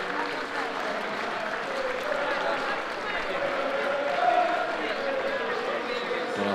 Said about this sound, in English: And the sportingly applauded as well from the home crowd